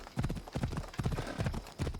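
Horse hooves clip-clopping at a brisk, regular gait during a ride in Assassin's Creed Odyssey, close and clear with even paired beats and no talk.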